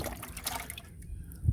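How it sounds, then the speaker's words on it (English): Water being scooped out of a container holding small fish caught in an overnight micro-fishing trap, a soft liquid pouring and dripping sound that fades, then a brief low knock near the end. "let's get some water out and it'll be a little easier to catch them"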